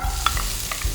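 Garlic and onions sauté in oil in a pan, a close hiss with two quick scrapes from stirring, no voices.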